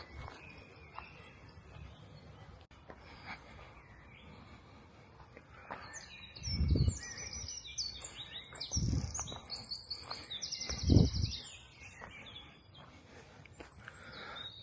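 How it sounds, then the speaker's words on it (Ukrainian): Birds chirp and tweet in quick, high bursts over a steady insect hum, with a few louder low thumps like footsteps passing nearby. "пташки співають."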